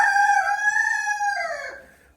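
A Pekin cuckoo bantam rooster crows once, a single close, clear cock-a-doodle-doo about two seconds long, trailing off at the end.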